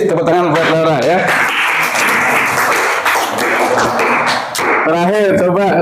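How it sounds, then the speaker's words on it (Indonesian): Classmates in a school religious-education lesson break into a burst of clapping that runs steadily for several seconds, with a voice speaking over it at the start and end. "Tepuk tangan buat Laura ya."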